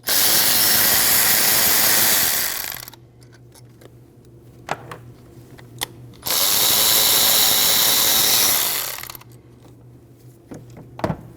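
Power tool backing out two 8mm bolts on a 2013-2019 Ford Escape 1.5L engine: two loud bursts of whirring drill noise, each about three seconds, separated by quiet gaps with a low hum and small clicks.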